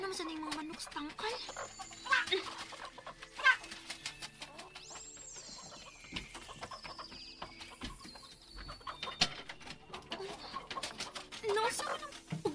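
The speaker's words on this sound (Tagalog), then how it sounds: "Naunsa naman sa ning mga manok sa tangkal?" Chickens in a farm coop cluck and squawk, with high, wavering cries rising and falling near and far, while people talk urgently over them.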